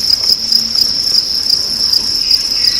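Crickets on a cricket farm chirping loudly and continuously, a dense high-pitched trill from many insects close at hand with no voices.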